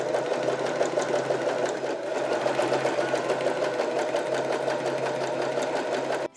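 A Janome 311 sewing machine runs steadily while sewing stretched elastic, a close, continuous mechanical whir with fast needle stitching that stops abruptly at the end.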